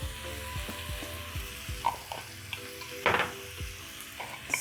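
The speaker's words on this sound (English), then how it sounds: "let the tomatoes cook until soft." Tomatoes and spices cook in a pan for coconut cream ndengu, a soft steady sizzle with occasional utensil scrapes and taps, close but fairly quiet, no talking.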